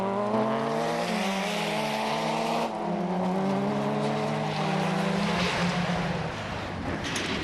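Rally cars, an Opel Astra GTE and a Mazda 323, racing on a forest stage, engines revving loudly with rising and falling pitch as they pass close by, continuous and harsh.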